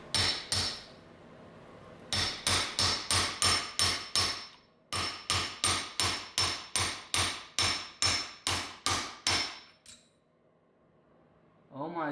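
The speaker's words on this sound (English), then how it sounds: "Grab a hammer and just go ham on it" A hammer pounds a seized piston in a Yamaha PW80 engine with rapid, loud metallic strikes in steady bursts, ringing sharply, followed by a brief pause and then a faint scrape.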